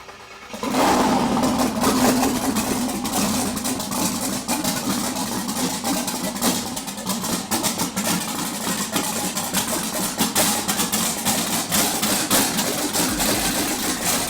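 A 1975 Chevrolet Caprice twin turbo engine cranks and fires, then settles into a loud, rough, continuous idle close by for the rest of the stretch, with no talking.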